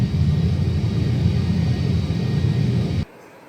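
Airbus airliner touching down and rolling on the runway at Mumbai, a loud, steady low rumble of wheels and engines heard close up that cuts off abruptly near the end.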